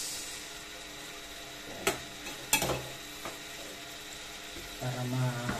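Stainless steel ladle mashing cooked mung beans in a cooking pan, giving a few separate scraping knocks and clinks with quiet gaps between them, then a short softer burst of stirring near the end.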